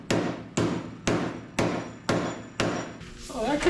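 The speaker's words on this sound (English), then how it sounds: "I'm just gonna get a hammer and love tap this a little bit." A hammer taps six times in a steady, evenly spaced rhythm on a Jeep XJ/MJ inner fender, each strike a sharp, close metallic knock, with a brief voice at the end.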